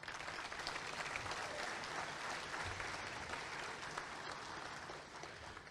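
Warm applause from the crowd at a Chamber of Commerce monthly luncheon, a dense, even roar of many hands clapping together, sustained and fairly distant throughout.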